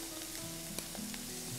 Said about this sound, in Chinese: 煎的时候我们可以给它翻个面儿